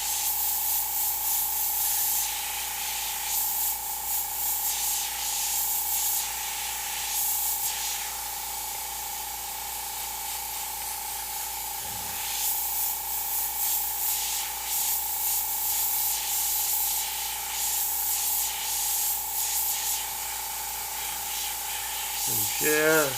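An airbrush sprays paint onto a Bride of Frankenstein artwork in a steady, soft hiss that runs throughout, over a constant electrical hum, while a person talks at times.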